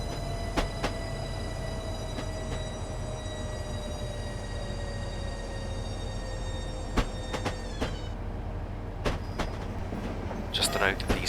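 Train braking on the approach to Gravesend platform in Train Simulator 2015, a steady low rumble with a falling tone and intermittent clicks and clunks over points, under speech.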